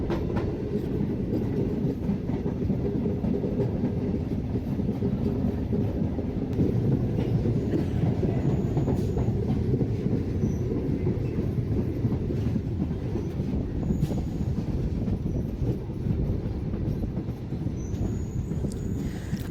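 A passenger train on the Masagram to Bankura line rolls along steadily, its wheels keeping up a continuous clickety-clack rumble with faint squeals, heard from on board, loud and unbroken with no voices.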